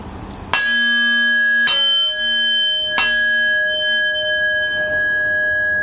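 A meditation bell at the close of a meditation session, struck three times at even intervals, each strike ringing out clear and close with a long sustained shimmer, heard alone.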